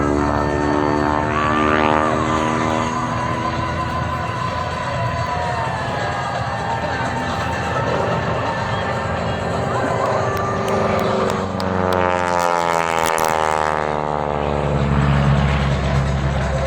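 A Pitts Special aerobatic propeller plane flies at an airshow, its engine droning continuously and rising and falling in pitch as it passes, with crowd noise and wind in the background.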